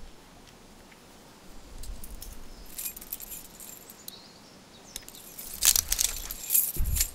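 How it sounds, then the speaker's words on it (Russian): Keys jingle as they are lifted from a dead police officer's body in The Walking Dead video game, a few bright metallic rattles in the last seconds over a quiet background. "Ключики."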